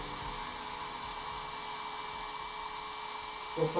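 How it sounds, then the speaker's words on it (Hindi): A handheld mechanical carving tool works into bone with a steady high whine and a faint hiss. Near the end it gives way to a brief clatter. "इस मैकेनिकल टूल को एक पेंट ब्रश की तरह यूज करते हैं"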